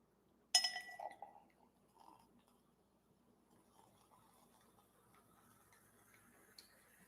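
A sparkling drink is poured into a glass: one sharp clink opens it, then a faint, soft fizz of bubbles lingers quietly afterward with no talking.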